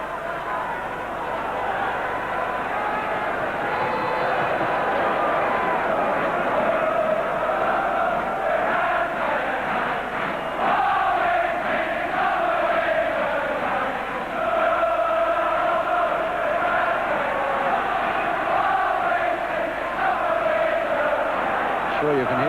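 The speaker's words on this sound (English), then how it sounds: "you can hear the Arsenal voices in the crowd at the moment" Arsenal supporters' voices fill the stadium at the 1980 FA Cup semi-final second replay against Liverpool, a steady loud crowd roar with swelling shouts and chants throughout.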